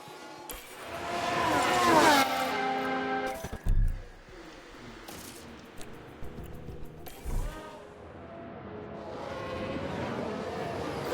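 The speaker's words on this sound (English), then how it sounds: "Sounds like a spin." Race car spinning out in the video game F1 Manager 2022 with a 1993 Minardi team: a surging, rising engine note early on, then sharp thuds and scattered bursts, with the car noise fading to a quieter hum.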